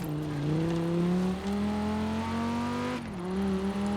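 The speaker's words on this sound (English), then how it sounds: "It sounds like either a 5-cylinder or a V10." A V10 car engine in the video game Forza Horizon 4 revs steadily with a smooth, rising droning tone, briefly dipping near the end before climbing again; loud and continuous, no talking.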